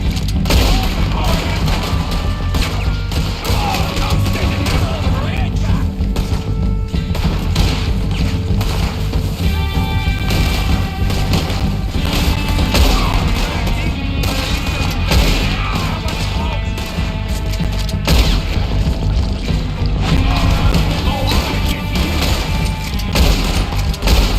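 Gunfire in the Red Dead Redemption 2 video game: loud, dense volleys of shots and booms roll on without pause through a continuous, chaotic shootout.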